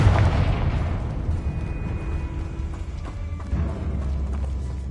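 A Confringo blasting-spell explosion in the video game Hogwarts Legacy: a loud, close boom at the start that decays into a long rumbling tail with faint lingering tones.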